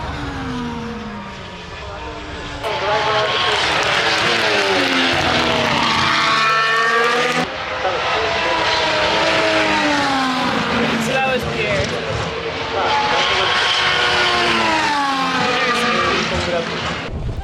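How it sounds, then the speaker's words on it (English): Formula 1 cars scream past during practice at Suzuka Circuit, loud high-revving engines rising and falling as several cars pass in succession, heard from trackside. "we got to see the F1 cars going out and practicing the course"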